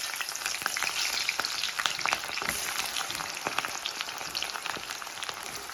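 Onions and panch phoron fry in hot oil in a wok, giving a steady close sizzle dotted with sharp crackles and pops all the way through, with no voices.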